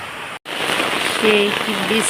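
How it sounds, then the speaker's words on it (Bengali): Heavy rain pours outdoors, a steady dense hiss throughout, with a brief dropout near the start and a voice speaking over it toward the end. "বৃষ্টির অবস্থান দেখো অনেক জোরে সরে বৃষ্টি হয়েছে"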